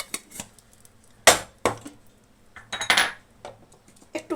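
Metal spoon clinking against a bowl while stirring a mixture of sugar, sour curd, ginger and green chilli paste, a few sharp irregular taps and scrapes with quiet gaps between them.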